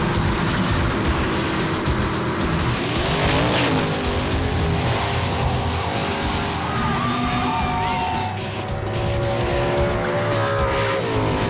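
An 8-second drag racing car at a Shreveport, Louisiana event roars loudly down the strip, with a rising engine pitch, tire squeal and a long sustained howl that fades as the pass ends.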